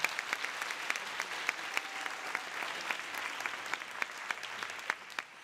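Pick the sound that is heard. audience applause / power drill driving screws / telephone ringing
audience applause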